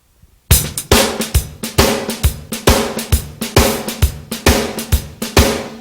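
A drum kit shuffle played with the left hand doubling the right, giving loud, evenly spaced triplet-feel hits with sharp attacks and ringing decays in a steady rhythm, close and alone without talk.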